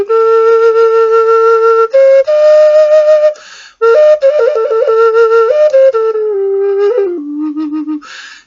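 A breathy wooden flute plays a slow native minor scale, each note held steadily with a short pause midway, descending to lower tones toward the end.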